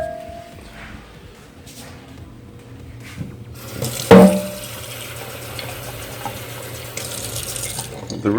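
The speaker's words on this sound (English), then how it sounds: "I'm actually going to add a little bit more water to this." Tap water runs steadily into a pasta pot at a kitchen sink, a continuous hiss and splash that swells louder partway through after a sharp clink.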